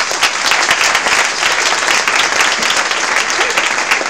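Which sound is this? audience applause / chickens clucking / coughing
audience applause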